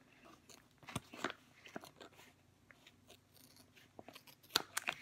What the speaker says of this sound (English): I just line it up with the little notches where you're supposed to tear